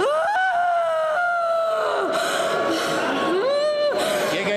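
A woman screams repeatedly during a Pentecostal church deliverance prayer, giving long, strained, wavering cries that rise and fall, loud and close, with brief breaks between outbursts.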